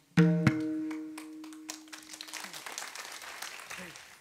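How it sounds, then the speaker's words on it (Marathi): An audience at a kirtan claps in a scattered, uneven patter after a sharp struck tone rings out. The clapping starts loose and fades into light, irregular claps under a murmur of voices. "टाळ्या वाजू नका, सभा नाही"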